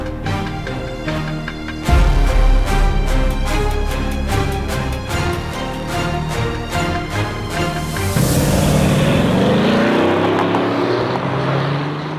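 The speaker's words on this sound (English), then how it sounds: "Full on HKS wide body FD RX-7 with the rotary." An HKS wide-body Mazda FD RX-7 with a rotary engine revs loudly and close, a buzzy tonal engine note climbing and holding before it shifts into a rushing, fading roar as the car pulls away.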